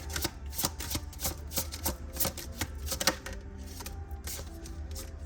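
Tarot cards are shuffled by hand in a rapid series of crisp, close riffling clicks and flutters, fairly quiet and continuous.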